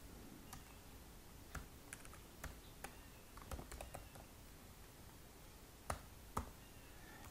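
Quick, irregular keystrokes tapping on a computer keyboard, faint and close, with scattered sharper clicks and short gaps between bursts.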